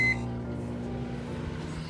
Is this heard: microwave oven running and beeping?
yes